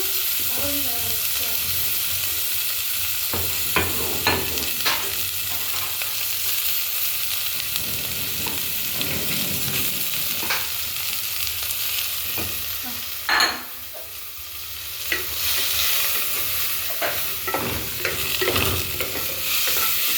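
Onion and okra frying in a pan for an Alexandrian-style okra dish, a steady loud sizzle with periodic clinks and scrapes of stirring, sounding close throughout.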